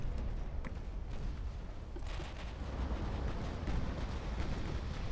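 Heavy 18-inch battleship guns firing in the naval game Ultimate Admiral: Dreadnoughts, a dense, continuous rumble of distant booms and rolling reports with no clear single shots, steady and loud throughout.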